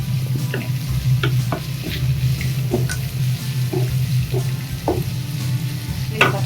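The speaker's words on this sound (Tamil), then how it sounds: "வெங்காயம் நல்லா வதக்கிக்குவோம்." Chopped onions sauté in a pan for puri masala, a steady close sizzle broken by repeated spoon scrapes and taps as they are stirred, with no talk.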